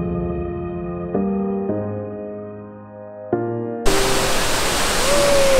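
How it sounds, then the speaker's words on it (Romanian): Waterfall at Plitvice Lakes in Croatia: a loud, broad rushing roar of falling water bursts in abruptly after a quieter tonal passage and carries on steadily to the end. "Mamă, uite ce cascadă se vede în față."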